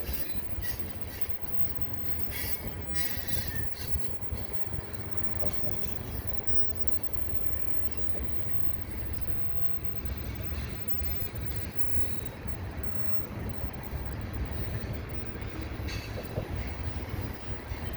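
A CPKC unit tanker train with CP and KCS locomotives rolls past at Dorval, its wheels squealing steadily over a constant loud rumble of railcars for the whole stretch, with no talk.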